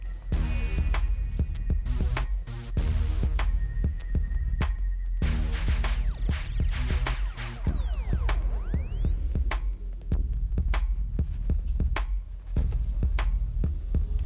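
Wahl Senior cordless hair clippers running during a skin fade haircut, a steady close buzzing hum with rhythmic pulsing and intermittent clicks and snips as the blade works through hair.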